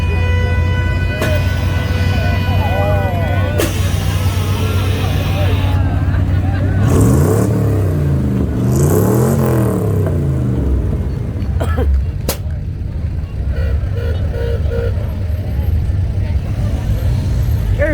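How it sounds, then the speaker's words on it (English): A parade car rolls past at a small-town car show in Chloride, Arizona, with a loud, continuous engine rumble and crowd noise, voices talking throughout. "There's that little car we saw earlier."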